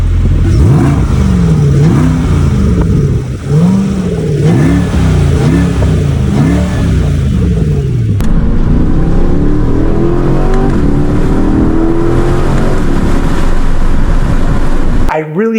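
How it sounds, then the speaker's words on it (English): A Chevrolet C8 Corvette's V8 exhaust revs up repeatedly in loud rising and falling sweeps, then settles into a steadier, sustained higher-pitched drone close by. "as far as the engine goes and the exhaust note"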